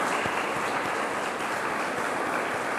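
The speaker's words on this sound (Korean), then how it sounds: "우리 뜨거운 여름을 교회를 지키면서 수고하신 우리 성가대원들에게 격려 박수 한 번 들어가겠습니다." A church congregation claps to encourage the choir, producing a steady, broad wash of applause that runs evenly through the whole moment without speech.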